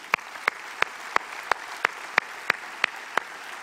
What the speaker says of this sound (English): How about another round of applause for that group?